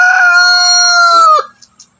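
A rooster crows loudly and close by, one long drawn-out call that cuts off abruptly, followed by a few soft clucks.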